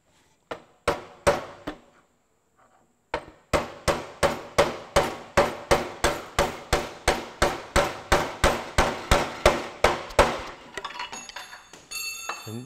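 Steady hammer blows knock at a stuck cylinder head on a Ferguson TEA20 tractor: a few sharp metallic strikes, a pause, then a long, even run of about twenty loud, close blows before a scraping clatter.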